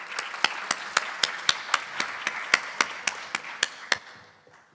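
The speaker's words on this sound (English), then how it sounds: "can I start with a huge round of applause for Farhana and Dr. Khan" Clapping at a conference on ICT-based healthcare solutions: about fourteen sharp, evenly spaced claps, close and distinct, as from only a few hands, tapering off toward the end with no talking.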